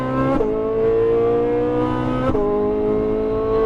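Supercar engine on a race track, loud and close, holding a strong steady roar with two sharp gear-shift breaks where the pitch drops and then climbs again under acceleration.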